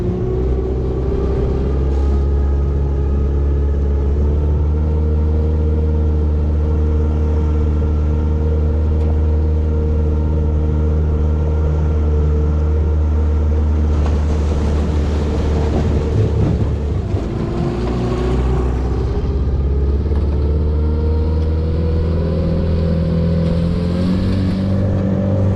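Outboard boat motor with a gearbox runs steadily and loud while the boat creeps through rocky shallows, its drone shifting pitch mid-way as the throttle changes.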